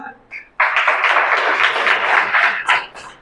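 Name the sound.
congregation clapping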